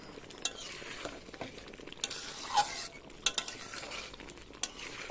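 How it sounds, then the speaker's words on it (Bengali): Curry stirred and sautéed in a pan, with a soft sizzle beneath intermittent scraping and clinking of a utensil against the metal, close and moderately quiet. "দেখো কত সুন্দর করে এখনো কষাচ্ছি রান্নাটা।"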